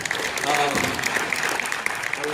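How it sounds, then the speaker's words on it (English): Audience applause at a youth summit, a moderate patter of clapping with a voice speaking over it throughout the short stretch. "Give them a round of applause."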